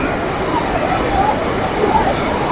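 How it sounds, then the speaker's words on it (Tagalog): Floodwater rushing hard during Typhoon Enteng, a loud, steady broadband roar of churning water that holds constant throughout with no clear breaks. "Nakikita natin dito yung lakas ng ragasan ng tubig."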